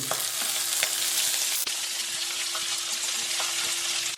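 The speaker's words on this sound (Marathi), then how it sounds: "याला आहे ना दोन तीन मिनटं चांगलं छान परतून घेऊ" Corn kernels, peas and other vegetables stir-fry in a hot pan, giving a loud continuous sizzle broken by occasional scraping stirs, close up, with a faint steady tone underneath and no voices.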